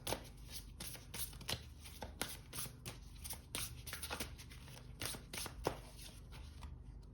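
Tarot cards shuffled and drawn by hand: quiet, close, rapid papery riffles and flicks in irregular bursts, with no talk over them.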